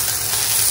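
Green peas sizzle and fry in a pan, a steady, close hiss of broadband crackle running without pause and with no talking.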